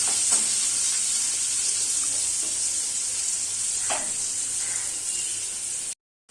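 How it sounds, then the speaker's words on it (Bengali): Fish and prawns fry lightly in hot oil, a steady close sizzle with bright hiss and a few sharp pops and crackles, continuing without talk until an abrupt cut near the end. "মাছগুলোকে আমি হালকা হালকা ভেজে নেব।"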